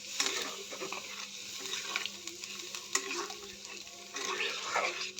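Potatoes frying in a pan sizzle steadily with stirring scrapes, and a brief hiss swells near the end as water is poured in; close and moderately loud, with no talking.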